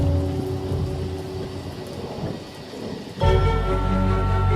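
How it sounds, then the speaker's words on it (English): A thunderstorm with steady heavy rain hissing throughout, then a deep rumble of thunder that swells in about two-thirds of the way through. No voices are heard. "Thunder and lightning, and it was horrible."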